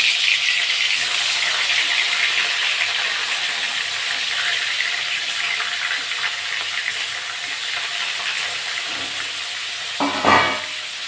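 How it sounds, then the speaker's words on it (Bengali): Fish fries in hot oil, giving a loud, dense, even sizzle that fills the scene. A brief clatter comes near the end, and nobody speaks. "বাকি মাছগুলো আমি একইভাবে ভেজে নেব।"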